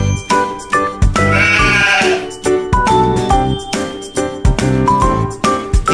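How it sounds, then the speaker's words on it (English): A farm sheep lets out a short, wavering bleat in the middle of a children's farm animal learning piece, heard over cheerful, rhythmic background music. "It's a sheep."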